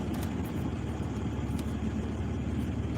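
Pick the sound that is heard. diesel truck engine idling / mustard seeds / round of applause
diesel truck engine idling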